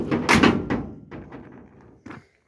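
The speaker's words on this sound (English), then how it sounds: "So the door actually closes pretty sweet." The door of a 1956 Chevy two-door, partly rebuilt and welded, swings shut with a solid thunk and slight rattle, followed by a short second knock, close and fairly loud in a garage.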